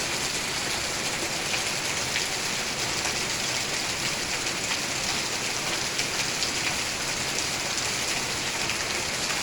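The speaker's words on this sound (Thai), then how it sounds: "บรรยากาศพาลงฝนตกก็ประมาณนี้ละ" Steady morning rain falls behind a house near coconut palms, a dense, even hiss of drops on surfaces that stays constant and close throughout, with no voices.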